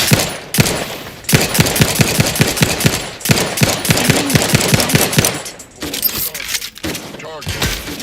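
Rapid automatic gunfire in The Outer Worlds 2 video game, loud bursts of close shots with brief pauses, mixed with game sounds and voices.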